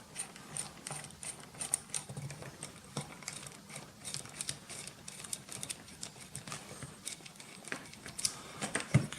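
A screwdriver loosens small screws on an IeGeek outdoor bullet IP camera, giving a steady run of close, light ratchet-like clicks and metallic ticks over a soft background rustle.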